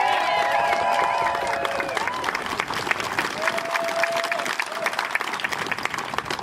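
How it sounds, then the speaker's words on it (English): A crowd at a March For Our Lives rally in Vallejo breaks into sustained applause with scattered cheers. The wash of clapping stays dense and steady while a voice and some whistling tones briefly rise above it. "Can we give another round of applause for everyone who shared with us today?"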